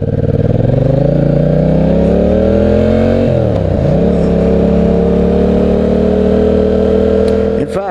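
A Yamaha FZ-07 (MT-07) motorcycle engine with a freed-up stock exhaust revs up steadily, then drops and settles into a loud, throaty idle with a slightly muffled exhaust note, close by.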